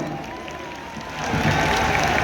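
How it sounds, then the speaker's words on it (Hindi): A crowd at a Dahi Handi competition in Raipur applauds to welcome a guest, a steady clapping wash that swells louder and fuller partway through. "जोरदार ताली बजाओ"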